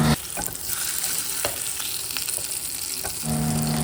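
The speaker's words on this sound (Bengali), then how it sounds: "এখানে ভাজা হচ্ছে ইলিশ মাছ" Hilsa fish frying in oil, a loud, dense, continuous sizzle close by with a few faint utensil ticks and a low steady hum beneath.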